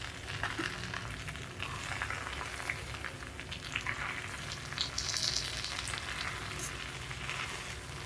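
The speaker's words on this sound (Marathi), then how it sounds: "ही भाजी एकजीव होईपर्यंत आता हिला ढवळत राहायचं खालती लागू नाही द्यायची" A jackfruit biryani vegetable masala fries in a pan while being stirred continuously, giving a constant close sizzle with faint scraping of the spoon against the pan bottom and no talk.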